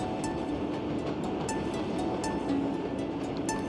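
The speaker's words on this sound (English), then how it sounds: "The hum of the train blends with the crystalline tones" A steady train hum with a faint rhythmic clatter runs unbroken and moderately loud, a smooth continuous rolling rail sound.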